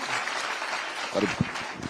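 An audience at a Nairobi gathering with the Deputy President applauds a guest, the incoming senator, with steady crowd clapping over which a voice briefly speaks near the end.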